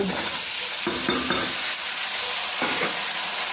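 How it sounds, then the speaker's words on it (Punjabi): Potatoes and onions frying in a pan, with steady sizzling broken by several louder bursts of stirring and scraping, close and continuous, with no voices. "ਇਹ ਆਲੂ ਭੁੱਜਣਗੇ ਤੇ ਪਾਤੇ ਆਲੂ ਤੇ ਪਿਆਜ਼ ਇਹਨੂੰ ਭੁੱਜਣ ਦਿੰਨੇ"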